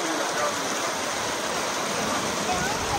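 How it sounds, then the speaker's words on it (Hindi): Water from the Sutlej River rushes hard through a broken embankment, a loud, dense, continuous roar of flowing torrent heard up close with no break. "ये देखें ये जा रहा है पानी"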